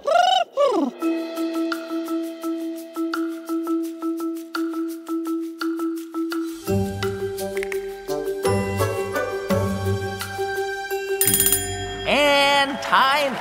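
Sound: game show thinking music

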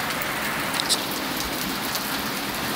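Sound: heavy rain falling during storm

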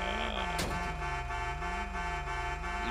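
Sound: car horn honking in a video game

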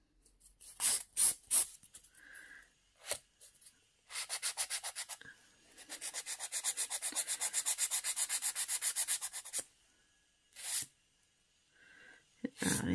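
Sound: filing acrygel nails with a 100 grit file

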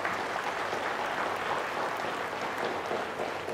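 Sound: applause for the winning team

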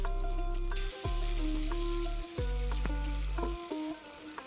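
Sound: chopped tomato frying with onions in a pan

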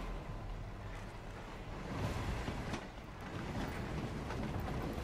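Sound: moving open train in the video game Hitman

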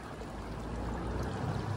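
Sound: flowing water at a park

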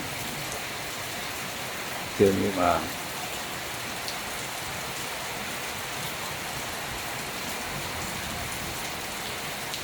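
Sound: rain falling

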